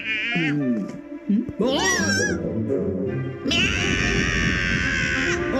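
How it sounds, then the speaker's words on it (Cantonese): A cat meows several times, loud and close, mixed with excited voices and other sounds around it. "呢隻貓係喺附近好出名嘅賊仔貓啊"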